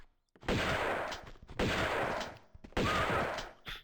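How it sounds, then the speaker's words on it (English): Three gunshots ring out in the Tomb Raider 2 video game's Venice level, each a loud sharp blast trailing into a long echoing decay, spaced about a second apart. "we're going to shoot these guys"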